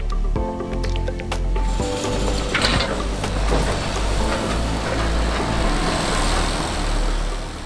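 A Rotana 160V variable-chamber round baler runs in a field with a steady mechanical whir, clatter and low engine drone, continuous and fairly loud, with no speech.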